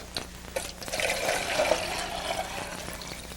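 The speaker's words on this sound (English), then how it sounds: "let's pour out the water that we have left." Water poured out from a squeezed sponge, trickling and splashing steadily for a few seconds, close and moderately loud with no talking.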